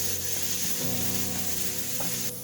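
Grated carrot with Spanish paprika fries in a hot pan with a dense, loud sizzle, and stirring gives soft scraping movements beneath the hiss; no one speaks.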